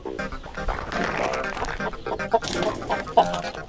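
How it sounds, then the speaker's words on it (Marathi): Chickens cluck amid a busy farmyard scene, the bird calls close and fairly loud against a dense, steady background with a few sharp peaks. "अरे कोंबडा आहे."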